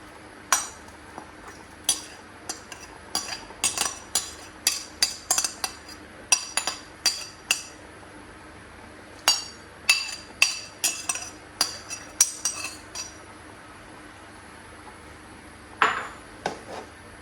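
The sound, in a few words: stirring blended crayfish and pepper in a pot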